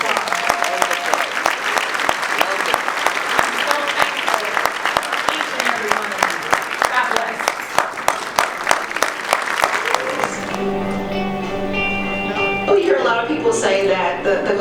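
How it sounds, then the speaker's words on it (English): A business luncheon audience breaks into dense, steady applause from a large crowd for about ten seconds, then it fades as a voice speaks over light room sound. "so give yourselves a round of applause."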